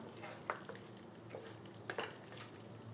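Chicken being stirred in a pan with pepper and coriander leaves, giving soft scraping and stirring strokes with a faint sizzle, a few distinct clinks and scrapes spaced through an otherwise quiet stretch.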